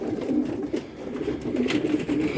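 Pigeons in cages in a pigeon loft coo softly and repeatedly in a low, murmuring rhythm, close by, with some rustling in the background.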